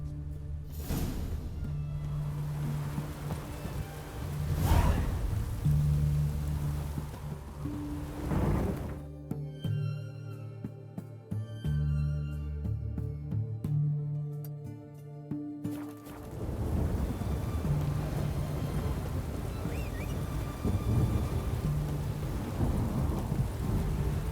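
Video game rain and thunder: steady rain pours down while heavy thunder cracks and rumbles several times, loud and close, with a quieter stretch midway.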